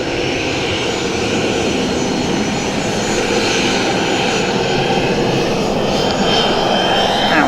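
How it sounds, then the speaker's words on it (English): Jet engines of an American Airlines airliner spool up for takeoff at Dublin Airport, a steady, loud roar that fills the whole span without a break. "you can hear the engine spooling up now on the AA off to Philadelphia."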